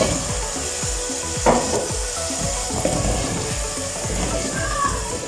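Three small potatoes fry in a pan for aloo palak, giving a steady close sizzle with scraping stir noises and a couple of brief clatters, with no one speaking.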